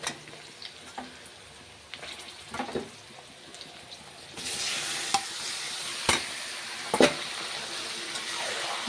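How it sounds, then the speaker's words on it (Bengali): Chicken pieces fry in a pan with onions browned red, giving a soft continuous sizzle that swells midway, with occasional stirring knocks and scrapes against the pan. "চিকেনটা পেঁয়াজের মধ্যেই ভেজে নেব"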